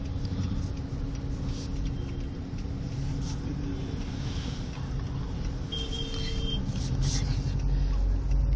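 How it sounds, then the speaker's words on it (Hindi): Steady low traffic rumble in South Extension, Delhi, with a Delhi Transport Corporation red line bus nearby at a signal; continuous engine drone with faint higher noises throughout, no talk. "ये एक रेड लाइन बस है मेरे दाहिनी तरफ जी"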